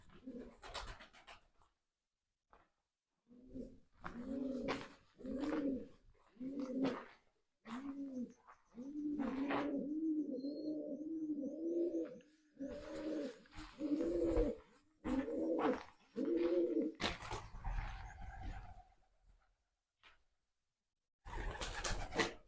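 Pigeons coo repeatedly in low, throaty bursts, one after another at a steady pace, fairly close, near lime kilns on Holy Island, with brief quiet gaps and faint outdoor background.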